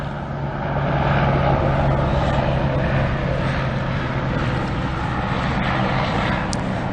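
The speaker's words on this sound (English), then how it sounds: "hold for the helicopter." Helicopter passing overhead, a steady broad rotor-and-engine roar with a low hum that swells and holds at a fairly loud level throughout, with no talking over it.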